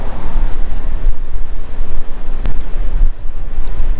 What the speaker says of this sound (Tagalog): At medyo malakas ang hangin mga pangat